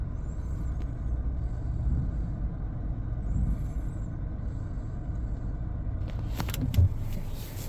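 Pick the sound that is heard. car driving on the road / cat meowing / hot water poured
car driving on the road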